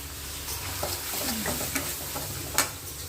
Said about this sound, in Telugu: కారము, ధనియాల పొడి, చెక్క లవంగాలు పేస్ట్ కొంచెం వేసేసుకొని దాన్ని కూడా కొంచెం ఇది చేసుకోవాలి.